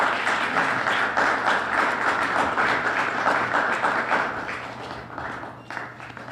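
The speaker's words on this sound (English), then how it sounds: "Let's give Quadrilla Men a round of applause." An audience at a press conference on Michael Jackson's estate breaks into sustained applause, a close, lively patter of many hands that tapers slightly near the end.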